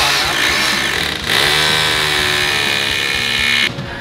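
Electric drill boring into concrete while fitting a minimal Japanese-style house door, a loud steady whine running nearly the whole time with a brief dip partway and a cutoff near the end, no talking.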